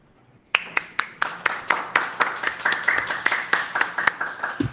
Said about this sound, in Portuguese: palmas são para todos os apresentadores da mesa redonda.